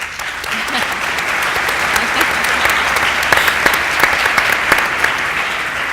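Sustained audience applause fills a conference hall during a diabetes round-table, dense clapping with sharper individual claps popping out as it continues.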